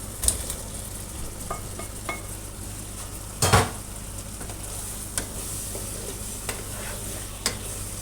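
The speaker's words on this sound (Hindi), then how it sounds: "अब इसमें भी कबाब डालने लगी हूँ।" Chicken seekh kebabs frying in a khara masala in a pan, a steady close sizzle throughout, broken by scattered clinks and scrapes of a utensil and one louder knock near the middle, with no talking.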